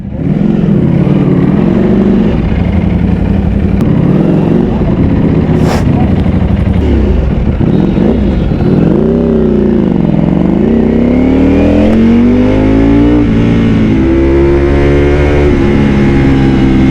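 A Ducati Panigale V4 motorcycle ridden on the road in hot weather, a loud continuous close engine drone with rising and falling pitch as it accelerates and shifts, plus wind rush throughout.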